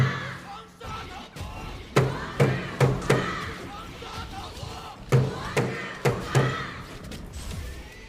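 Crowd at a KPL esports qualifier match, Nanjing Hero versus Changsha TSA, roaring in a series of loud rhythmic chanting bursts that rise and fall in two groups over a constant hall murmur.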